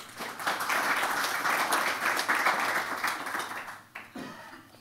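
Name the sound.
audience applause welcoming the speakers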